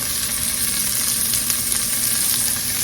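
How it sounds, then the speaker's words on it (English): Pork chops sizzling in a pan of gravy: a dense, constant loud crackle and hiss close up, continuous for the whole stretch with no voices. "Let's put them back in this pan. Right into that gravy."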